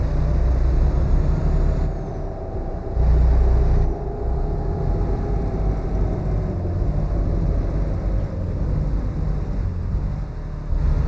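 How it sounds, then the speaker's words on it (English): A 2019 Freightliner Cascadia's engine brake in American Truck Simulator rumbles and chatters steadily, a deep droning roar that swells and eases in pulses, with no talking. "I'll let you guys hear what this engine brake sounds like"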